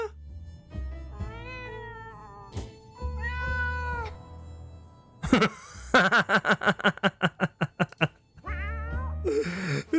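A cat meows several times in drawn-out, wavering calls, then a quick run of rapid chattering sounds, followed by another meow; loud and close.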